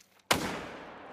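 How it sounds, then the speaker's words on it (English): A single sharp hunting rifle shot in theHunter: Call of the Wild cracks out loudly after a brief quiet and trails off in a long, rolling echo. "We're both shooting at the same one."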